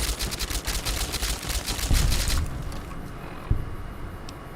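Rapid gunfire in the game Fallout New Vegas, dense bursts of shots rattling continuously for a couple of seconds, then a thinner tail with one last sharp shot, loud and close.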